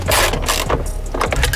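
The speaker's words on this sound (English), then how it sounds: "from here on out, we just gotta screw things back in" Bolts being screwed back into a Ford BA/BF Falcon ICC module, giving close, loud ratcheting and clicking mechanical sounds in quick uneven bursts.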